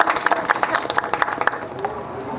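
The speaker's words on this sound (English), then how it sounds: "What about a round of applause for our singers, huh?" An audience at a Christmas celebration claps for the singers in a lively burst of quick, overlapping claps that thin out and fade after about a second and a half, with faint voices underneath.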